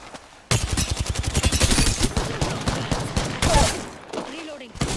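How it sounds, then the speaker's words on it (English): Rapid bursts of automatic gunfire from a shooter match in Apex Legends, loud and close, firing almost continuously with brief gaps, a short pause near the end before shots resume. "Getting shot at."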